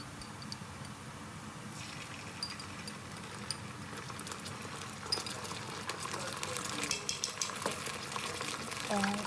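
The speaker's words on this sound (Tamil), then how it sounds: "இதோடு நாங்கள் கொஞ்சம் இஞ்சி பூண்டு பேஸ்ட்டையும் இதோட சேர்த்துக்கொள்ளுவோம்." Ginger garlic paste sautéing in a pan for chicken fried rice, a steady low frying hiss with light stirring ticks that grows busier and louder toward the end, fairly faint and with no talking.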